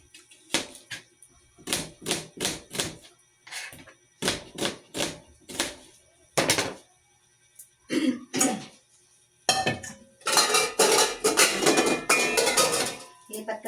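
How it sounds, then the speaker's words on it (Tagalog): A knife chops onion on a cutting board in a home kitchen: bursts of quick, sharp taps in short runs separated by pauses, close and fairly loud, ending in a denser flurry of rapid chops. "Maghiwa ako ng sibuyas."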